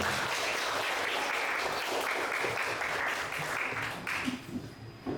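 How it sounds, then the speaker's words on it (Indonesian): Classroom applause from students, a sustained dense patter of clapping that tapers off into a few louder individual claps near the end. "Tepuk tangan lagi."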